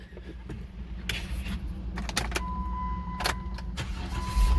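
A car engine cranking with repeated clicks and metallic clatter, then catching and settling into a steady idle, recorded close up with no voices.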